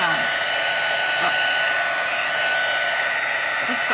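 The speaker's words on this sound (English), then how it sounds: "Heat tool, some people think they might be able to do this with a hairdryer." A handheld embossing heat tool blowing hot air over paper for a card, a steady, even whooshing hiss held for several seconds at close range.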